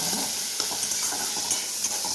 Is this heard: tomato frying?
yes